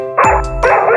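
A small electronic toy dog belonging to a doll gives a few bright, high-pitched yaps in quick succession, close and loud, with no one talking.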